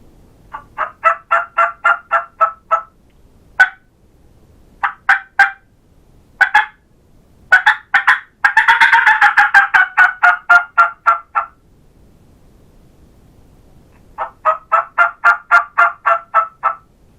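Rapid series of turkey hen fly-down clucks and cackles imitated on a diaphragm mouth call, building into an excited flurry, then trailing off and resuming after a pause.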